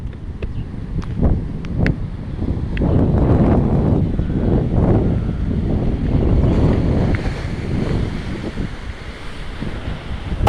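Strong sea waves washing against the rocky shore below Elmina Castle in Ghana, a continuous rushing surf with gusty wind buffeting the microphone and occasional clicks.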